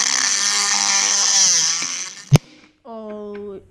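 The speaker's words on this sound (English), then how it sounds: "I'm just going to get the Dremel and shave the inside edge off it." A Dremel rotary tool grinds with a steady high whine, shaving the inside edge of a Yamaha YZ85 motocross frame. The whine runs close and loud for about two seconds, then a sharp knock, a short silence, and a voice speaks.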